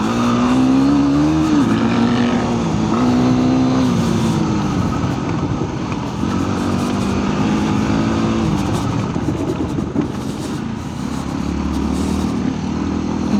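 A KTM 890 motorcycle is ridden hard off-road, its engine droning loud and close with rising and falling revs and no one speaking.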